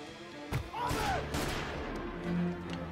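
Pistol gunfire in the video game Mafia Definitive Edition: a sharp shot rings out, followed by a rolling, echoing rumble of further shots and impacts mixed with game sound effects.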